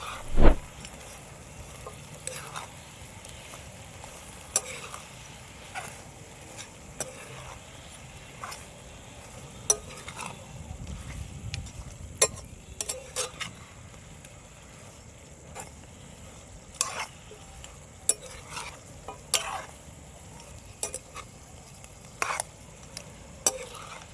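Chillies tossed with turmeric powder in a pan, repeated scrapes and clinks of a spoon over a soft background sizzle, a sharp knock at the start and irregular strokes throughout, no talking.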